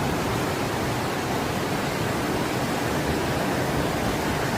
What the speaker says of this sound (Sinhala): පාරෙන් නම් අඩි 10ක විතර වතුර ප්‍රෙෂර් එකක් යනවා.